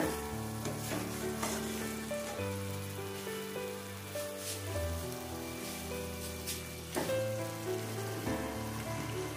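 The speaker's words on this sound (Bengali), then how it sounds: "রাখা আলুটা দিয়ে মশলার সাথে একটু ভালো করে কষিয়ে নেব।" Fried potatoes sizzle loudly in a pan as they are sautéed with mutton and spices for a mutton curry, with continuous frying and stirring scrapes and no talk.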